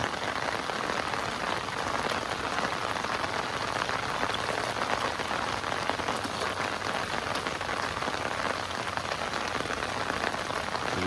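Steady rain pattering densely on surfaces beside a riverbank, an even hiss of countless drops that holds at the same level throughout with no voices.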